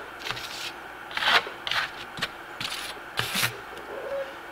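A trowel scrapes and rubs textured plaster onto a wall for a broken-plaster finish, a series of short, close rasping strokes separated by brief pauses.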